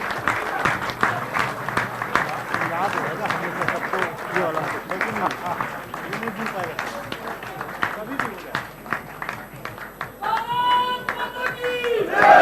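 An audience at an Indian felicitation ceremony for the Tokyo 2020 women's hockey team claps in a dense, sustained patter, mixed with cheers and a voice over a public address system.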